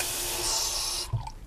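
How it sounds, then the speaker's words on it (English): A little water poured into an oat mixture in a kitchen, a steady close splashing stream for about a second that stops abruptly, followed by a brief soft clunk. "I'm going to go ahead and add a little bit of water"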